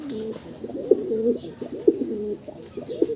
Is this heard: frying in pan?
no